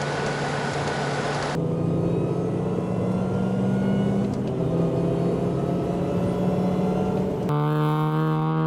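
A car engine pulls hard through an overtake on a road trip with a Mini and a TVR, a loud steady drone that jumps in pitch as the gears change.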